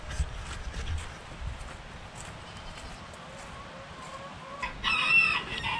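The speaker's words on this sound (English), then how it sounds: "We've got one escaped chicken." Farm chickens cluck in scattered bursts at a barn, with a rooster crowing clearly near the end, over a quiet outdoor background.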